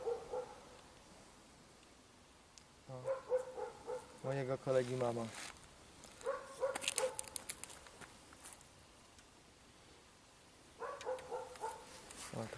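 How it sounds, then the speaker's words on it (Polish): A watchdog in the village of Bobrówka, Poland, barks in several short bursts at some distance, with people talking nearby between the barks. "tylko pies strożujący, tak zwany burek, daje sygnał gotowości"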